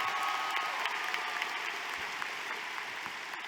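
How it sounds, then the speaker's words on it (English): A high school graduation audience applauds in a steady, dense clatter of clapping that holds evenly throughout and fades slightly toward the end. "how about a round of applause for Olivia and Mason"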